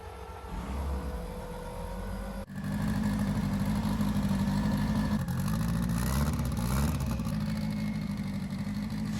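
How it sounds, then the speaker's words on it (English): Noisy fuel pump running in a 550 hp, 1.4-litre Renault 5 Turbo drag car, a loud, steady mechanical drone that steps up in level partway through and holds continuously to the end. "Fuel pump 1, which is horrendously noisy."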